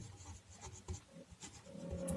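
Chalk or marker scratching across a board during a Hindi maths lesson on linear equations, with short, uneven strokes and rubbing sounds close by, without speech.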